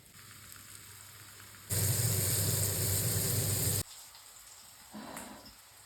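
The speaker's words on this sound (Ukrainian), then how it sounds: "просто мачаємо в борошно і відповідно на гарячу сковорідку." Loud, bright sizzling of flour-dipped mushrooms frying in a hot pan bursts in for about two seconds, then cuts to quieter kitchen background with a brief crackle later.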